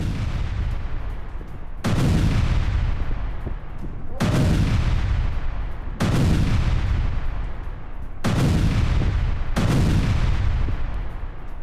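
Series of heavy blasts from a strike on a Syrian army missile depot, five or six loud booming explosions arriving roughly every two seconds, each with a sharp onset and long rumbling decay over continuous low roar, no talking.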